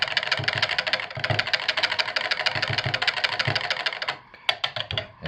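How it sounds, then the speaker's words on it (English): Fragrance is stirred by hand into soap batter, making a brisk, steady scraping rhythm close by for about four seconds before it stops, followed by a few light knocks. "Give it a hand stir."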